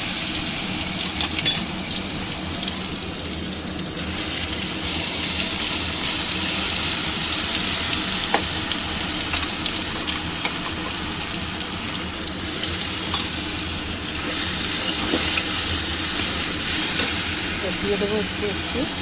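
Bottle gourd peel paste, ground with green chili and garlic, fries in hot oil tempered with black cumin seeds, giving a steady, close hissing sizzle with slight swells throughout.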